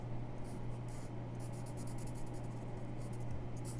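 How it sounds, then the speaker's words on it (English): A black marker tracing lines on paper for a guitar drawing, producing soft, faint scratchy strokes in short repeated bursts over a low steady hum. "go ahead and start going over all those lines with black marker again. So trace over them"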